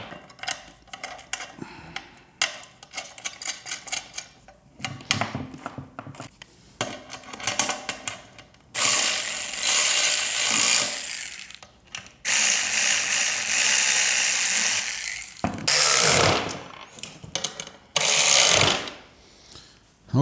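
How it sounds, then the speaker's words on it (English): An electric socket wrench runs in several long whirring, ratcheting bursts while a ceiling hoist is fitted, loud and close, with quieter clicking and handling noise between the bursts. "I have my handy dandy electric socket wrench."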